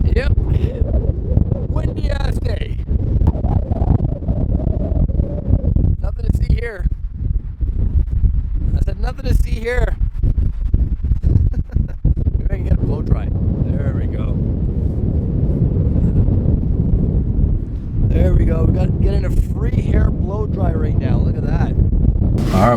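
Strong wind roars and buffets the microphone continuously with deep rumbling gusts, while someone talks intermittently over it.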